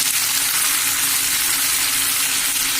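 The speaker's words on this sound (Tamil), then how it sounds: "பச்சை மிளகாய் ஒரு 4-5ங்க போட்டு இதை நல்லா வதக்குவோங்க." Four or five green chillies sauté in hot oil, giving a loud, close, continuous crackling sizzle that stays even throughout with no voices.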